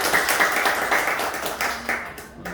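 Audience clapping inside a church assembly hall during a Sunday service, a steady dense patter of hands close by, lasting throughout with no one speaking.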